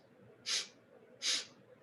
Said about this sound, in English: Inhale in 4 sniffs